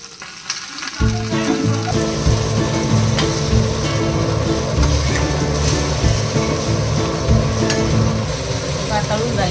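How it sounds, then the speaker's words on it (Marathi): Spiced pomfret fish, coated in red chilli powder, turmeric and masala, sizzles and crackles loudly in hot oil in a home kitchen, starting after a brief quiet moment and continuing steadily up close. "आता स्नेहा हे फ्राय करते. पहिले पॉपलेट फ्राय करणार आहे"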